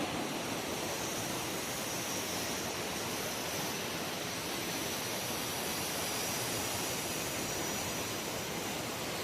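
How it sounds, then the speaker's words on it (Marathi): Steady, dense rushing of a large, fast-flowing river at Dharchula near the India–Nepal border, a constant broadband roar with no pauses or voices. "आवाज तर येत असेल पाहू शकता किती स्पीडने वाहते आहे"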